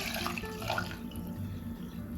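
Thick homemade heavy cream pouring into a container, a steady close liquid flow with a soft gurgle through the first half that then thins out, alone with no speech.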